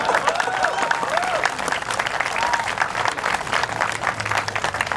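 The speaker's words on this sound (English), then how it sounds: "Clap." Rally crowd at an outdoor Singapore political gathering in the Chinese Garden bursts into sustained, dense applause for the full stretch, loud and continuous, with faint voices and cheers mixed into the clapping.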